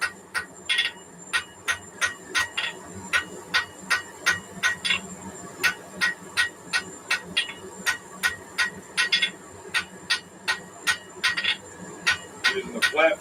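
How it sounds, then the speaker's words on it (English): Hand hammer forging a long steel taper on an anvil, a steady run of sharp ringing blows at a brisk, even rhythm, close and loud with no talk over them. "Using the flat face of my hammer,"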